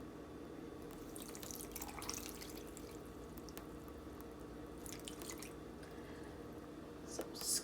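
Water trickles and drips into a mixing bowl already holding flour and salt for homemade play dough, a quiet, close, intermittent splashing with soft squishy sounds.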